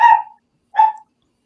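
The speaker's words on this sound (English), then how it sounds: "What's that dog going off about?" Two sharp dog barks, one right after the other, fairly close and loud, with silence between and after them.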